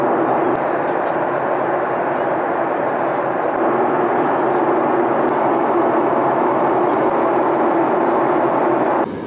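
Steady, loud broadband roar of an airplane cabin during descent toward Sochi, a constant engine and airflow drone that holds evenly throughout, with faint talk underneath.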